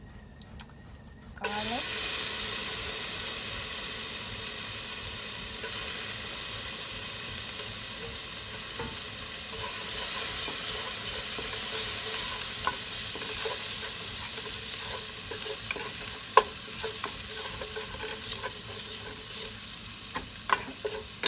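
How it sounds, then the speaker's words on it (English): Garlic stir-frying in olive oil in a pot, a steady hiss and sizzle running throughout after a quiet start, with occasional clinks of stirring; a voice speaks briefly over it. "going to be stir frying in a pot today because I have a lot of jicama. So in here I put in, once again, olive oil, and I am going to put in some garlic."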